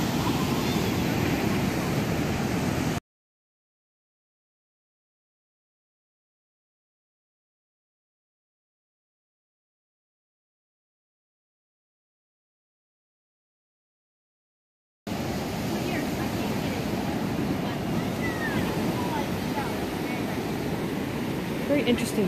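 Surf and wind at a beach beside a private cottage, a steady broadband roar that fills the first few seconds, cuts to silence, then resumes loud and constant.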